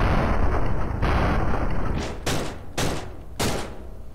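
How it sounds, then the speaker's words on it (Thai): Gunfire in the People's Playground game as a watermelon is shot: four sharp broadband bursts in quick succession over a low rumbling bed, alone with no talk. "วันนี้จะมาทดสอบยิงพัมกินกันนะครับหรือว่าแตงโมนั่นเอง"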